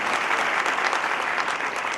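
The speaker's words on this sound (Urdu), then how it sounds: "اس بات پہ زوردار تالیاں بجنی چاہیے." Loud audience applause at a motivational seminar, a thick, continuous wash of clapping from a large crowd filling the whole moment.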